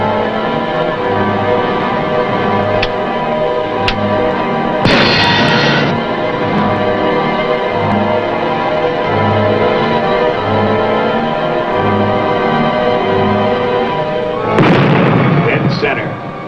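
A wartime submarine drama scene in which a torpedo is fired and strikes its target: two sharp explosive bursts stand out over a steady, rhythmic low throb of background score, the second blast louder and fuller near the end.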